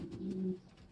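A racing pigeon gives a single short, soft coo, a low murmuring note lasting about half a second, close by and alone.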